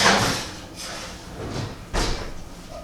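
An oven door swings shut in a home kitchen after a cod fillet goes back in to bake, giving a few soft thuds and clunks with a firmer closing bump near the end, no talking.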